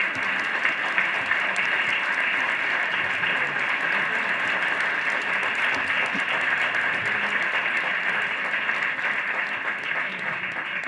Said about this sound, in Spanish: Repetimos ese aplauso por la exposición que él ha hecho.